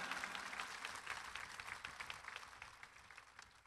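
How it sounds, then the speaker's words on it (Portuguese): Warm applause from the congregation at a Holy Mass honoring Padre Cícero, many hands clapping in a dense, busy wash that starts strong and gradually thins and fades, fairly faint overall. "uma calorosa salva de palmas"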